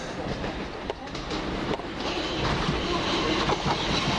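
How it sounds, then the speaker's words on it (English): A Brighton-bound passenger train rolls by at East Croydon station with steady rumble and occasional clacks of wheels over rail joints, growing slightly louder toward the end. "This is going to be a Brighton train."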